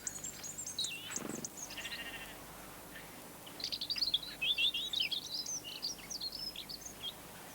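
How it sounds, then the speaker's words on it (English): European robin singing in a British garden, a run of high, thin, warbling phrases with quick trills, a brief pause, then a longer tumbling stretch, moderately close over faint outdoor ambience. "The robin, for example."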